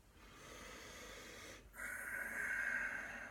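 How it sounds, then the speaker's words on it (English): A slow, lengthened out-breath during a relaxation exercise, a soft airy exhale that swells into a steadier breathy hiss partway through, close and quiet with no talk. "naturally lengthen that out breath longer than the in breath"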